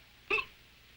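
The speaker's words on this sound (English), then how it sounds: "I have the hiccups" A single sharp hiccup, brief and fairly clear against a quiet background with no talk, from a scene in a classic film honored at a 1980 tribute event.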